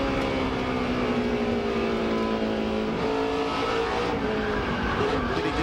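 Onboard a NASCAR truck at Nashville driving down into turn one: a loud, steady engine roar with shifting pitch as it lifts and sets up the corner, continuous and close, with no talking.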